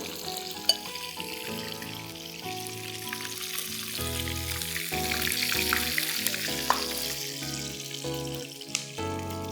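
Chopped onions frying in a pan for a sandwich filling, a steady sizzle running the whole time beneath louder tonal background music, with no talking.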